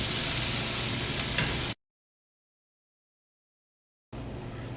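Country ham pieces frying in a pan, a steady soft sizzle that cuts out abruptly for a couple of seconds and then returns more faintly.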